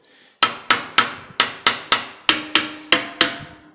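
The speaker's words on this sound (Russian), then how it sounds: "перед регулировкой нужно взять молоток." Light hammer taps on a valve rocker arm before valve adjustment, about eleven sharp ringing strikes in a steady rhythm, close up with no talking.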